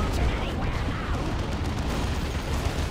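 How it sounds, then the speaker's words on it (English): Artillery fire from Wraith Guard and a D-cannon pounds Assault Space Marines in a Dawn of War 2 match, a dense rumbling barrage of blasts running steadily under a commentator's talk. "Assault Space Marines take tons of artillery fire from the Wraith Guard and the D-cannon"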